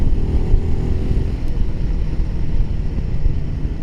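A Royal Enfield Himalayan 450cc motorcycle engine runs in a loud, steady low rumble mixed with wind buffeting while riding, with no talking.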